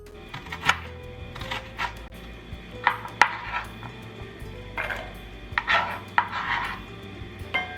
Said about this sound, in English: We are going to start by chopping one large onion.